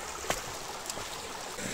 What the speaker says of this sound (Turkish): Böyle bu şelaleler devam ediyor. Böyle aşağı aşağıya doğru gider.